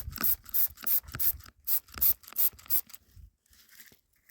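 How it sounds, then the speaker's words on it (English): Rapid bursts of hissing spray from a trigger bottle wetting an agate nodule, about a dozen quick squirts in an uneven rhythm, close by, then quiet. "Spray down the face and see if we can see anything in it."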